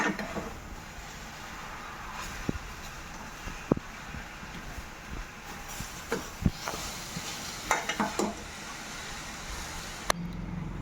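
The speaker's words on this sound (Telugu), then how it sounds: "క్యారెట్ వేగుతూ ఉంటుంది" Grated carrot for carrot halwa frying in a pan on fairly high heat, with a soft, steady sizzle, punctuated by occasional scrapes and clicks of stirring.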